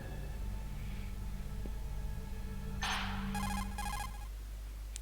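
A telephone in Metal Gear Solid rings in a few quick electronic bursts over a low steady background hum.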